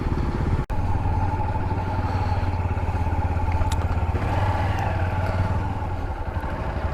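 Motorcycle engine idling and running steadily while the bike is being parked on a ride to the Piauí coast; a continuous loud, rough low rumble with a brief cut near the start, no talk.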